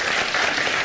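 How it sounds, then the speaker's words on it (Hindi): A crowd applauds during a Hindi morning TV show, with dense, steady clapping throughout the short stretch, fairly loud and close, with no talk over it. "ओके, इनके लिए तालियां हो।"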